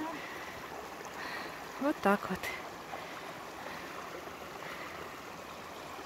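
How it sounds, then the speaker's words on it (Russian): A mountain stream in the Kazbegi mountains of Georgia in winter flows with a steady, moderate rushing hiss throughout, with a brief spoken remark in the middle. "Поэтому мы нашли ручей."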